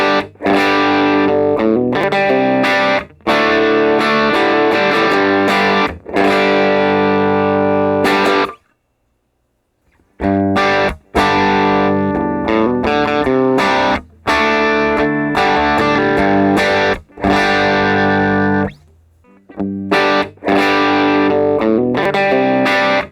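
Electric guitar played through a Line 6 Helix modeler's stock cabinet simulations with heavy early reflections, a loud distorted tone strumming chords in phrases split by short pauses, with no talking.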